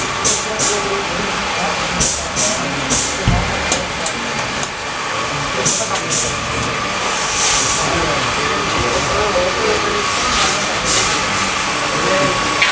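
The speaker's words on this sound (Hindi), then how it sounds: "ये इटली का है और ये डस्ट वाला ड्राई ब्लास्टर है" An Italian-made dry dust blaster for alloy rims runs with a loud, continuous blasting hiss, broken by sharp bursts of air. Muffled voices may come through at times in the background.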